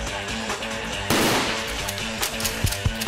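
Stun grenades and tear gas launchers go off at a police standoff, a loud broad blast followed by several sharper distant pops over a continuous rumbling background.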